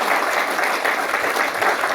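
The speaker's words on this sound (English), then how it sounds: "Big round of applause." Audience applause at an engineering industry review event, with steady, dense clapping from a large crowd that sounds loud and close and continues throughout.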